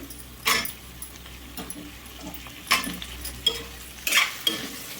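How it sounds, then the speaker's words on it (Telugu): Drumstick pieces fry in oil for an Andhra-style cucumber and drumstick sambar, a steady close sizzle broken by a few louder stirring and utensil clatters; no one talks. "ఇవి కూడా ఆయిల్లో ఒక నిమిషం పాటు అయితే వేగనివ్వాలండి"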